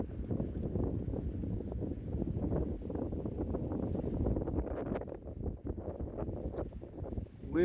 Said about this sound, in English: Wind is fucking changing